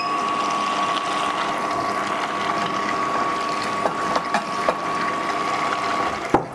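An apple juice extractor runs in reverse, a steady mechanical whir with a constant motor tone and a few ratcheting clicks and knocks near the end, close and alone.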